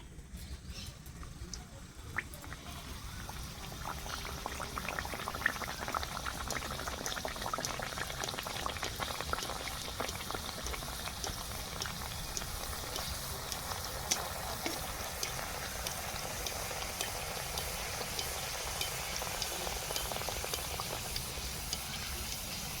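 Luchi, puffed Bengali flatbread, frying in hot oil gives a steady, close sizzling and bubbling that runs unbroken throughout, with no voices.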